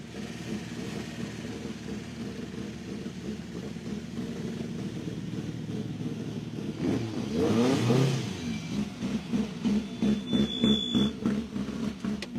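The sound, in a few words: Peugeot 309 GTI rally car number 222 arriving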